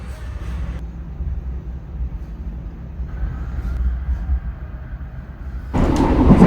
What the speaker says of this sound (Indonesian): Ini kereta api komuter line Penataran berjalan di lintas antara Blitar dan stasiun Rejotangan